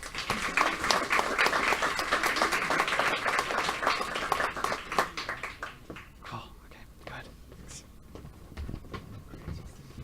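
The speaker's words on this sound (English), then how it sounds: "So once again, congratulations! Another round of applause for them." Audience at a Mind Sports Olympiad Pentamind victory ceremony gives a round of applause for the winners, dense clapping that fades after about six seconds into scattered claps and murmured voices.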